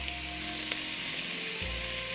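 Food fries in a hot pan, seasoned with salt and black pepper for a quick Christmas dish, giving a steady, close, continuous sizzle with no voices.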